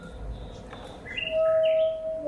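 A bird sings in short, bright chirps and a few clear whistled tones over a quiet background, brief and fairly close, with no voices.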